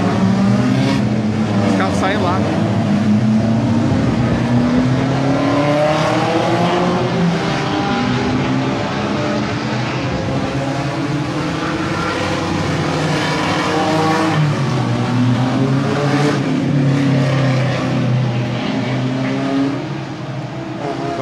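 Turismo 1.4 race cars pulling away during a qualifying session at a Brazilian circuit, their engines droning and revving loudly and continuously, with a commentator talking over the engine noise throughout.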